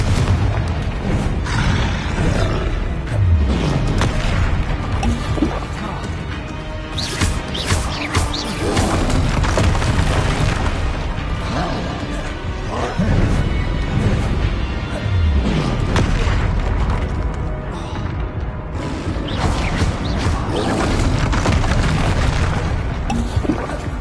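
Confringo spell blasts in Hogwarts Legacy, a dense run of loud booming explosions and crashing impacts that repeat throughout over a rumbling battle backdrop, with no speech.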